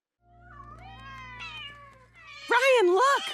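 Troublesome cats meowing in a cartoon scene, a soft drawn-out meow followed by a louder, wavering yowling cry near the end, close and clear over a faint background hum.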